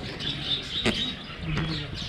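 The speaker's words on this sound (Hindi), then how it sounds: "Macau blue headed Macau." A blue-headed macaw at a zoo between Dehradun and Mussoorie lets out two brief, sharp calls about a second apart, heard over a steady murmur of outdoor crowd and ambient noise.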